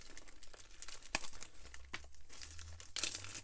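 A worn plastic bag crinkles and rustles up close as a crab-shaped fishing lure is unpacked from a monthly predator-fishing tackle box, in quick, soft crackling bursts without speech.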